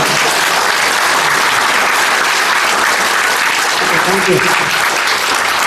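Sustained audience applause at a swearing-in ceremony for new LIAFI office bearers in Devarakonda, steady and dense clapping throughout with a brief voice near the end.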